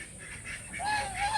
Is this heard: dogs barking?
no